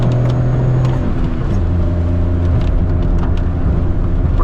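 A Maruti Alto's small engine strains in second gear with the air conditioning running on tight Shimla roads, a loud, close droning hum whose pitch steps down and then climbs again as the car pulls.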